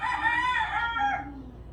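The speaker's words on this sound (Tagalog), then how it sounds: "Itong tilaok ng manok." A rooster crows once, loud and close, a drawn-out harmonic call that rises and then trails off.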